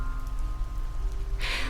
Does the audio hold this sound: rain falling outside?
yes